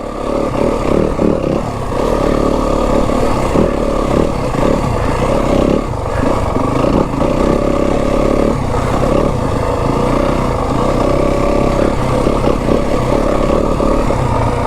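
A Yamaha WR250F dirt bike engine growls loudly and continuously as it picks its way over rough rocks on Flagstaff singletrack in Kelly Canyon, with the revs rising and falling in short bursts, close up and alone.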